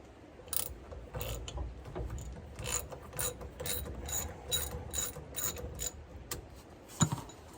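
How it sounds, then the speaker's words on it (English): A hand ratchet with a 9/16 inch socket turns a Humvee half shaft bolt, giving a close, steady series of crisp clicking strokes with soft metallic rubbing between them. "the bolt that holds the half shaft in place. Nine 9/16 inch socket."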